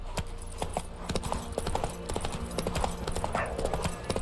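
Horse hooves clip-clop at a steady trot in The Witcher 3, with close, rapid, rhythmic knocks running throughout over faint game ambience.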